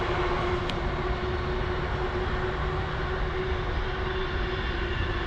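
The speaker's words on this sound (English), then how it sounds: "Oh, 2 passing trains." Two trains pass in a steady, continuous rumble with a low droning hum that holds at an even, fairly loud level without a break.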